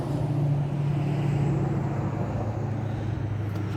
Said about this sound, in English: Sorry, truck.